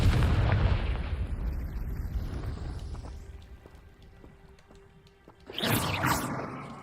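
A Confringo fire spell explodes in a Harry Potter video game, a loud burst at the start that fades under game ambience, then a second booming blast near the end.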